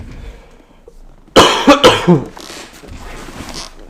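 A person nearby coughs several times in a quick burst after a quiet moment, followed by softer throat sounds.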